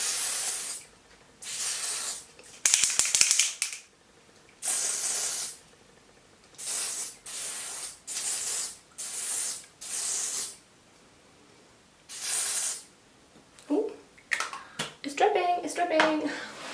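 Dior Skin Air Flash spray foundation released in a run of short, loud hissing bursts, each about half a second to a second long with brief pauses between. Near the end the bursts come in quicker, rougher spurts.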